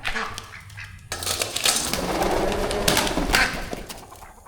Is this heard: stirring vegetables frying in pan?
no